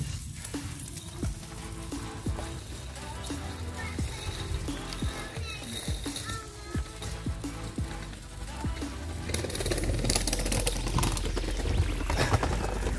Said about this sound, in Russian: Вот так примерно жарятся наши сосиски.